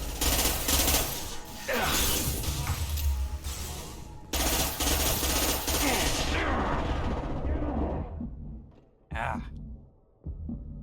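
Sustained bursts of gunfire from a Mass Effect 2 firefight, dense and loud in long rattling stretches with brief gaps, fading toward the end with a couple of short late bursts.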